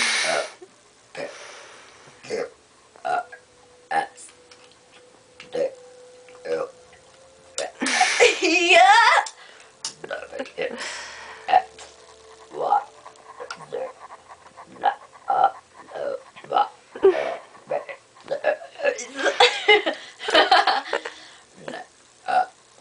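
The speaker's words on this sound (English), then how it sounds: "Burp the alphabet." A woman repeatedly burps, trying to belch the letters of the alphabet in a rapid series of short, close, loud eructations with a few longer ones, broken by brief pauses and occasional voice.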